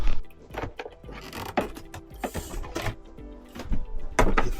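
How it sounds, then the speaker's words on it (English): Screws being undone on motorhome window blind covers (Seitz/Dometic), giving a close, irregular run of small clicks, ratcheting and scraping mechanical sounds at moderate volume, with no talk. "let's undo these screws"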